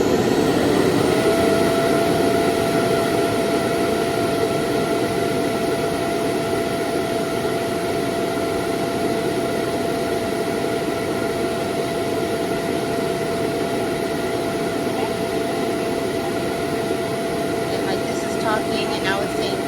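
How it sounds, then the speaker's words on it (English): A robot vacuum runs nonstop on its auto suction, making a loud, steady whirring drone with a high motor whine that holds unchanged throughout, close by. "And then it'll just start suctioning, like the auto suction, and it won't stop. It just keeps going."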